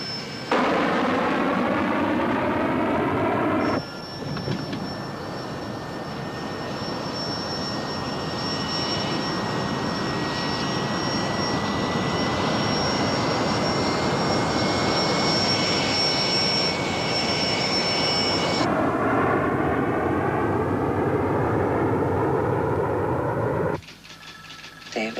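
Jet engines of an airliner roar steadily during a takeoff climb, a loud, sustained broadband rumble with a high whine on top, continuing for most of the stretch before cutting off abruptly near the end.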